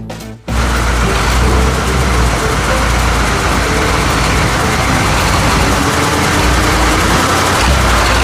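A toy off-road car's engine drones loudly and continuously after a brief pause at the start, a steady rumbling motor noise with no letup.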